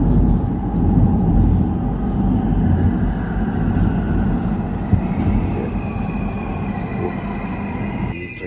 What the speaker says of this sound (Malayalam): ഈ ട്രെയിനിനകത്താണ് ഞാൻ കയറേണ്ടത്